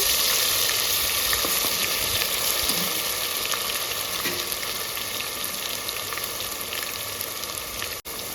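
Ginger garlic paste frying with already fried onions in a pan, a loud, even hiss that stays steady throughout, with a few light crackles and no voices.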